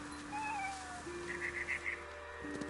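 A cat meows in the video game What Remains of Edith Finch, a quick run of several short, clear meows in the middle, over a steady musical drone with a faint bird call earlier.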